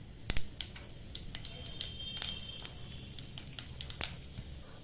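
Mustard seeds and cumin crackle and sizzle in hot oil in a home kitchen, scattered sharp pops over a soft steady hiss, close and quiet.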